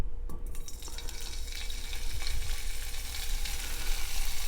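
Ham frying in about a tablespoon of oil in a pot for habichuelas, a close, continuous crackling sizzle with a few stirring clanks near the start and no talking.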